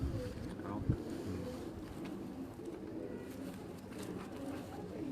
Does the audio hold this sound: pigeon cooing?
yes